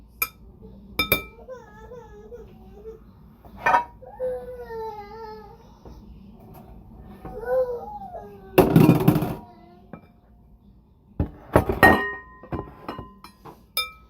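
Glassware tinging and clinking in a home kitchen while vegan food is being made: several sharp, bright clinks land in clusters, mixed with children's voices and a few louder clattering bursts.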